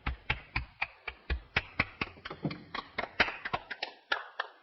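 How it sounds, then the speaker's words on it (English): Sparse clapping from a small group of hands, sharp separate claps in an irregular rhythm, fairly close and moderately loud, with no talk over it. "Applause."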